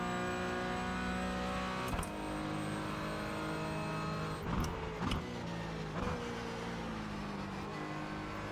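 A Porsche Cayman GT4 in a racing sim holds a steady engine drone with clear harmonic tones. The pitch shifts slightly through several gear changes, close and moderately loud, with no talk.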